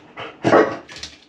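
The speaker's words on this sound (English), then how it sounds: "Doesn't get his food, doesn't get anything for barking because then he starts going crazy" A pet dog barks for food indoors, giving a short sequence of close, sharp barks and yips with one louder bark in the middle, and no talking.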